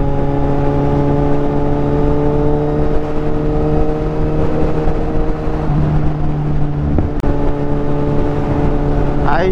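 Kawasaki Z1000R motorcycle engine running loud and close, a steady harmonic drone with a brief rise in revs near the end, alone without talk, amid a morning group ride.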